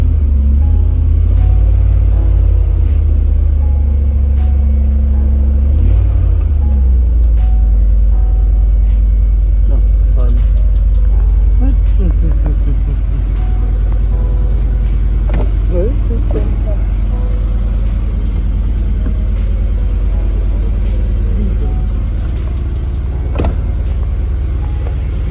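A 2002 BMW M5 with a 4.9-liter V8 idles and runs steadily, a loud, continuous low rumble close by that holds for the whole stretch, with faint background noise over it.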